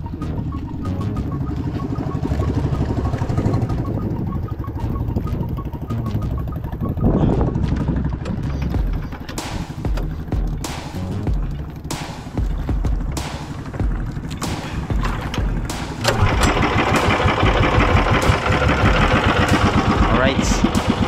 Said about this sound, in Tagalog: Sandarin muna natin itong makina.